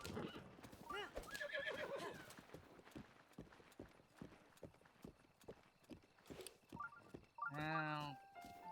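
A horse in the video game Zelda: Breath of the Wild neighs loudly near the start and again near the end, with a run of clip-clopping hooves between, over game background sounds.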